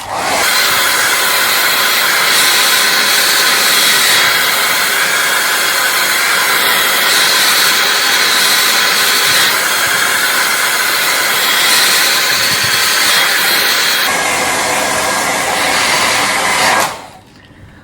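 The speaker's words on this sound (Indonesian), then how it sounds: "Jadi kita mulai dengan hair dryer rambut." A hair dryer blows continuously while drying a man's hair before pomade styling, a loud steady roaring whoosh with small shifts in pitch as it moves, cutting off abruptly at the end.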